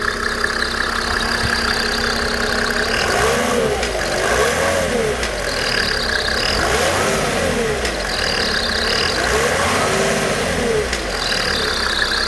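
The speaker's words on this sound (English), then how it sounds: "hell of a runner. You don't even have to glow it. Just turn the key. She fires right up." A 1996–1997 Mercedes-Benz E300 diesel, a W210 with the OM606 inline-six, runs close by with a steady, clattery diesel idle and a few gentle revs that rise and fall.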